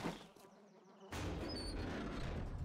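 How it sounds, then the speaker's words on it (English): Flies buzz in the 7 Days to Die video game, a soft insect drone that jumps to a louder, fuller hum after about a second and then holds steady. "Just flies."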